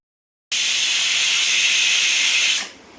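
A pressure cooker on the stove cooking chickpeas lets out one loud continuous steam hiss for about two seconds, starting abruptly after a silent moment and then fading quickly.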